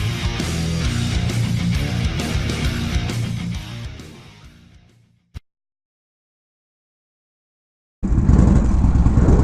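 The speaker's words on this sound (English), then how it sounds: "I'm riding my bike again in sunny South Florida." A motorcycle is ridden on sunny South Florida roads, its engine and wind roaring loudly and steadily. The roar fades out into silence, then returns abruptly at full strength, with no speech.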